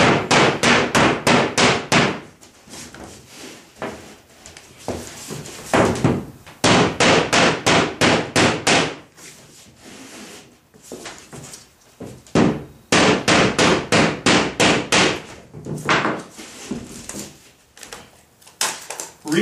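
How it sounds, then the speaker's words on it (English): Rubber mallet tapping drywall pressed against an outlet transfer sheet: bursts of rapid, evenly spaced knocks in several clusters of about ten hits each, close and fairly loud, with short pauses between groups and no talking. "firmly tap using a rubber mallet"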